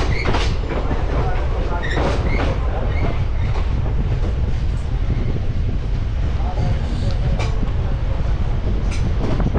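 A train runs along a railway track toward New Mal Junction, a loud constant rumble with rhythmic clattering of wheels on rail joints throughout.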